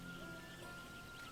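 Rain falls in the farming video game Sakuna: Of Rice and Ruin, a steady soft patter alone under a faint musical tone.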